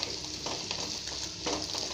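Brinjal sautéing in hot oil in a pan for a gravy, a steady close sizzle with a few soft scrapes of stirring, no voices.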